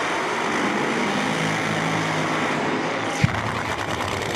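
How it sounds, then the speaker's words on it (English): Big Show Nitro funny car running during Friday qualifying at Mo-Kan Dragway drag racing, a steady broadband roar that holds throughout with a single sharp thump near the end. "That sound is the Big Show Nitro car."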